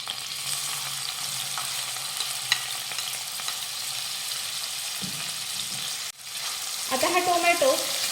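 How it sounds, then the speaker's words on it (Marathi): Chopped tomato sautés in hot oil with crackling mustard seeds and cumin for an onion-free, garlic-free vegetarian thali, giving a steady close sizzle that shifts partway through, with scraping stirring toward the end and no talk. "परतून घेऊयात टोमॅटो परतून घेतला की आता यामध्ये घालूयात मसाले"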